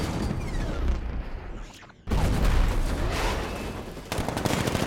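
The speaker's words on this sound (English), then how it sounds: "60mm cannon operational." Heavy, booming 60mm tank cannon fire in the video game Batman: Arkham Knight, with dense explosive rumble, a brief lull and then another loud blast, continuing without pause.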